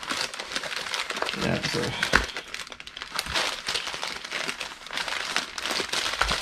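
Cardboard shipping box being folded flat and handled up close, with dense crinkling, scraping and occasional sharp cracks running throughout under a voice.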